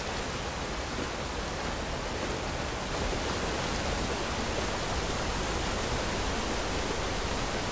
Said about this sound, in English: Jump into the waterfall.